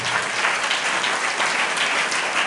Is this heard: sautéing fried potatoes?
no